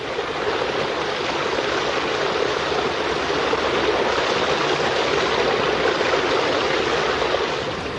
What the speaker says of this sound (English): Running water can wash away the soil.